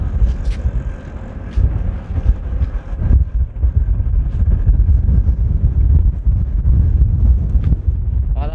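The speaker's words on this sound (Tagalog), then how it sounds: "Lakas ng hangin." Strong wind buffets the microphone in a loud, continuous roar at Lucena City port before a RORO ferry to Marinduque, gusting throughout, with faint background noise and no clear speech.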